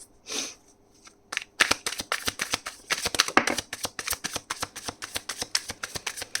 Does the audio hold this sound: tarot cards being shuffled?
yes